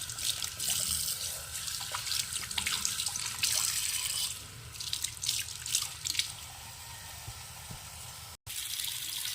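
Tap water runs and splashes into a kitchen sink basin as it is rinsed clean, a continuous close splatter and trickle that eases and thins partway through, with a brief cut near the end and no voices.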